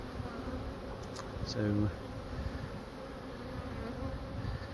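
A honey bee swarm gives off a continuous low buzzing hum as the bees fan. The sound stays fairly faint and steady throughout, and someone speaks briefly.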